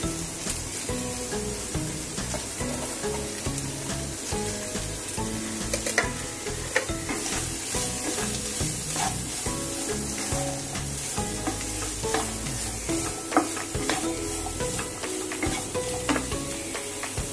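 Washed, chopped cabbage sizzles and fries in a pan with coriander-cumin powder and red chili for dal kobi, stirred repeatedly with scraping utensil strokes over a steady, continuous crackle. No one speaks.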